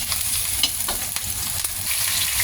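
Garlic frying in hot oil in a pan for pork liver, a steady loud sizzle with occasional clicks of a utensil stirring, no voices.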